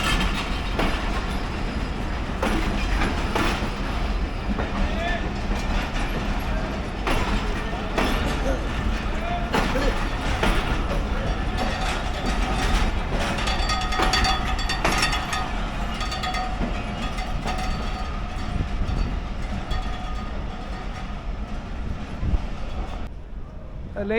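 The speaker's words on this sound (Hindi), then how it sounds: "8 डाउन तेज़गाम लाहौर से रवाना हो रही है" The Tezgam 8 Down passenger train pulls out of Lahore station, wheels clattering and clanking steadily over rail joints with a broad rumble, while people talk nearby throughout.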